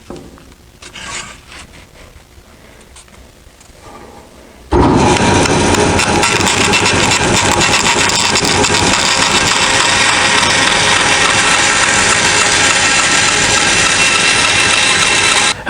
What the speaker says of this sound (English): we're just going to cut them with the bandsaw this time